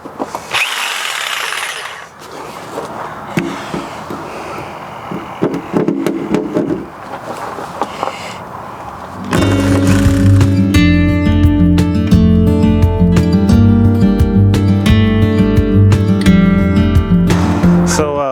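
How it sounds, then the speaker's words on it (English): A jigsaw saws through the metal body panel of a Nissan NV200 camper van, its rapid buzzing cut heard up close, first with workshop noise and then running loud and steady under background music. "So this is cutting through no problem with this jigsaw"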